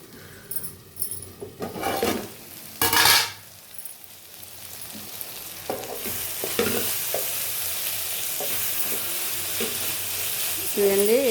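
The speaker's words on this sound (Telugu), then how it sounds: "చూడండి ఇట్లా కలుపుతుండాలి, లేదంటే ఆకు మడుగెట్టేస్తుంది." A spatula scrapes and clatters as goru chikkudukaya (cluster bean) curry is stirred in a pan, with a few loud bursts early on giving way to a soft, even sizzle that continues alone.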